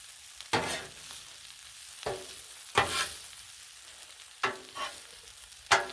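Chicken tortellini pasta sizzles on a Blackstone griddle while a spatula stirs and scrapes it, giving five or six sharp scraping strokes at irregular intervals over a soft, steady frying hiss.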